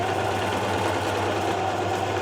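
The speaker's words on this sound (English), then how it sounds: "now I'm going to stitch those ties onto the back pieces" A sewing machine runs continuously while stitching small fabric ties onto the back panels of a shirt, giving a steady close mechanical whir with a fine rapid rhythm.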